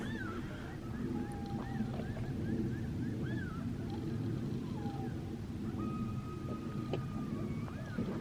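Coyotes yip and howl from several directions around a Grand Canyon campsite, with long drawn-out howls mixed among quick wavering yelps, all fairly distant.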